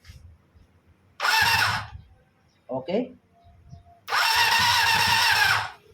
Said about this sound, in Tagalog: tutunog yung starter motor at magredondo